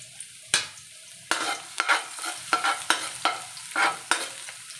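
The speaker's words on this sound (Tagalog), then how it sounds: "Una kong igigisa ay garlic." Garlic sautés in hot oil with a steady sizzle, broken by sharp scraping stirs at an uneven rhythm, close and fairly loud with no talk.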